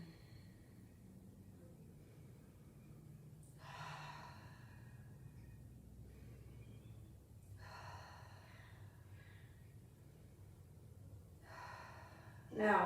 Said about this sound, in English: And take several breaths.